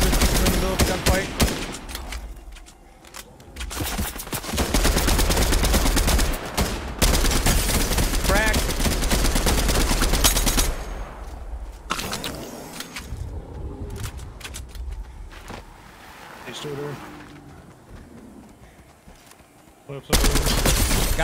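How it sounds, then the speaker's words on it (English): Video game gunfight with rapid machine-gun bursts and volleys of shots, loud and close, coming in dense clusters separated by brief quieter gaps. "Just in the middle of a gunfight."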